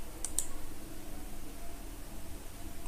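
A single computer mouse click, then a second one close behind it, both faint and crisp at the start against a steady soft hiss of room noise.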